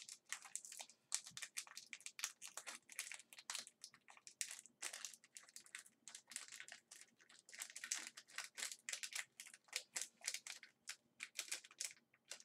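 Crinkly foil wrapper of a Pokemon TCG card pack torn and crumpled open up close, with dense, irregular crackling bursts continuing throughout and no talk.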